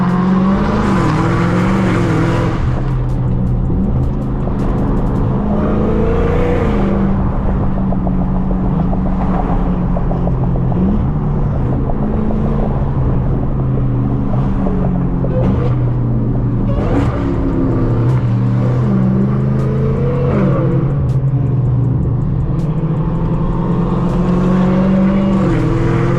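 Dodge Hellcat engine roaring loudly while driving through rush-hour traffic, a constant heavy exhaust drone from inside the car with rising and falling revs, a voice occasionally speaking over it.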